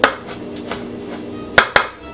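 Garlic crushed with a small pink knife on a board, a few soft knocks ending in two sharper taps, close and alone.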